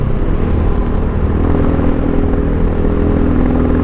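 A Pitsterpro XTR250 dirt bike engine drones loud and close while riding at speed, a steady buzzing, rattly roar with no letup, the carburettor reportedly needing work.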